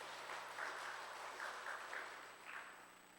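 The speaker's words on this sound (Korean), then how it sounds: "격려의 박수를 보내주시기 바랍니다." Church congregation applauding the choir during a Sunday Presbyterian worship service, a broad wash of clapping that is fairly faint and distant, steady throughout with a few brighter swells, no voices on top.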